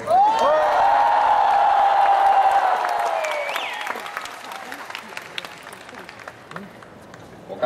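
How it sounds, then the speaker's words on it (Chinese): A large crowd at a recognition speech cheers and applauds loudly, with a sustained whoop and whistles over dense clapping that gradually thins and fades out into scattered claps. "谢谢你们的欢呼声"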